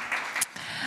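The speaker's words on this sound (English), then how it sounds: "once again, a big round of applause" Applause from a conference audience at a Polish-Norwegian research cooperation event, a brief burst of steady clapping at moderate distance, with a slight swell partway through.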